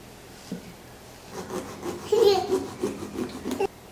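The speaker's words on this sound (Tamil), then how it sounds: "இது வந்து சின்ன கத்தி மாதிரி தான் இருக்குது பார்க்குறதுக்கு, ஆனால் அந்த அரும்பு அரும்பு மாதிரி இருக்கிறதுனால ரொம்ப ஈஸியாக இருக்குது கட் பண்ணுறதுக்கு" A small serrated knife saws through a Halloween pumpkin in short rubbing strokes, close and steady, growing louder toward the middle, with faint voices in the background.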